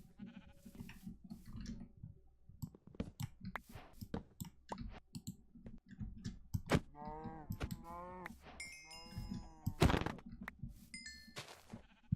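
Sheep in a Minecraft-style survival game bleat several times in quick succession, mid-clip and again near the end, among scattered soft clicks and game sounds, with no talking.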